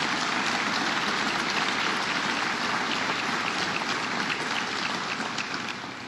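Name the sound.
audience applause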